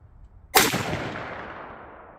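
A single sharp rifle shot from a MidTen 4-12x40 scoped rifle at the range, loud and close, with a long reverberating tail trailing off across open ground.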